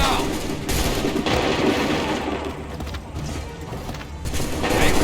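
Volley of musket gunfire in Assassin's Creed 3, a line of soldiers firing together, with repeated crackling bursts and booms close by amid battle noise and shouted orders.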